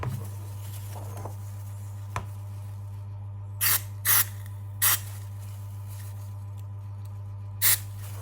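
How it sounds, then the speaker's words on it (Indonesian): Cleaner is sprayed onto a Hyperdash dynamo motor for a Japan Cup mini 4WD car in four or five short, sharp hissing bursts close by, over a steady low electrical hum. "Kita semprot dulu dia sama standar biar bersih."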